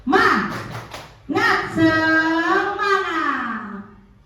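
A group performs a rhythmic spirit clap, a quick run of sharp, close claps, then voices rise together in a loud drawn-out chant, likely at a school gathering.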